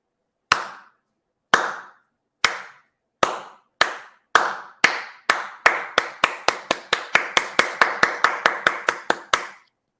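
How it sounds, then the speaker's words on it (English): One person claps alone and close by, starting with slow, evenly spaced claps that speed up into a fast, steady run of sharp claps before stopping. "That's me clapping for myself for being right."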